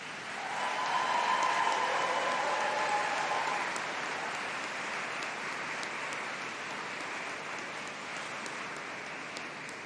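Graduates and guests at a university summer graduation ceremony give a long round of applause, a broad steady hiss of many hands clapping in a large hall, swelling early then holding evenly.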